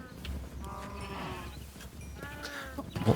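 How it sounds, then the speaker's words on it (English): Sheep in the Minecraft video game bleat several times in short wavering calls, clear and fairly close, over a steady low game background hum. "I guess while I'm back here, feed the sheep."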